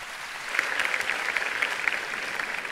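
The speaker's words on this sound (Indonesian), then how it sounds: "Oke, tepuk tangan dulu." An audience at an Indonesian talk session claps together, a dense steady patter of many hands at moderate distance, sustained for a few seconds without voices.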